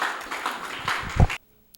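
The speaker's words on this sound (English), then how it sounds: "A round of applause for him" A small audience claps at a poetry slam semi-final, giving a brief patter of hand claps that builds to a sharper burst and then cuts off abruptly into silence.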